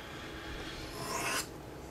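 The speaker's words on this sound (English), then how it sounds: "Hell, you can sharpen a knife on a coffee mug." A knife blade is drawn across the unglazed ring of a ceramic coffee mug in a single short, gritty rasping stroke, close and quiet, with no voices.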